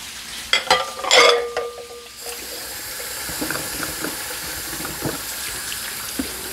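Bacon frying on a Steelmade griddle, a steady close sizzle with crackles throughout, after louder clattering and splashy handling noises at the start.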